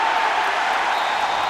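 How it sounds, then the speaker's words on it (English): Crowd noise fills a college football stadium during a Minnesota at Penn State Big Ten game, a steady broad roar of cheering that holds at an even level throughout, with no clear voices standing out. "The crowd was cheering."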